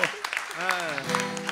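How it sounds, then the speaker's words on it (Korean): Audience applause at a forum on the low birth rate, held at the National Assembly; scattered claps sound under a voice that is talking, sung or stretched out over the brief moment. "박수."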